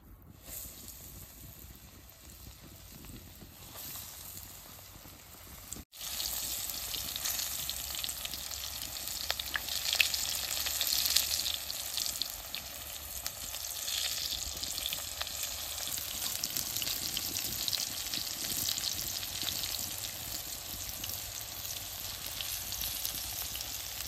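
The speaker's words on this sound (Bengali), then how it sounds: "এখন চিপটি আমি ভেজে নেব।" Banana peel chips deep-fry in hot oil, a dense continuous bubbling sizzle that steps up sharply after a brief pause and holds steady and close for a long stretch, with no talking.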